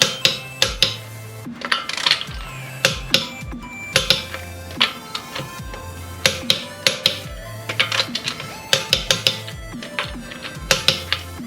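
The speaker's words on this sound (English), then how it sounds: "So we're gonna torque these wheels to 80 foot-pounds." A torque wrench clicks repeatedly while tightening wheel lug nuts to 80 foot-pounds in a star pattern on an Infiniti Q50 during a brake job. The sharp, close clicks come in irregular bursts with short pauses between them.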